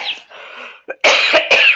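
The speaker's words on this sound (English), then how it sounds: "I have to cough." Harsh, loud coughing close by: a raspy wheeze, then a sharp burst of two forceful coughs.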